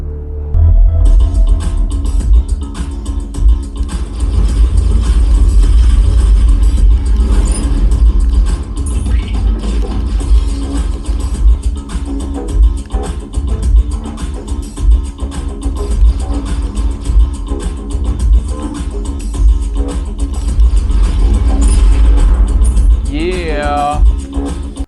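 Gameplay from the video game Subdivision Infinity playing on a budget Android TV streaming device, a steady loud mix of low engine-like rumble and mechanical whirring throughout, with a rising sweep near the end.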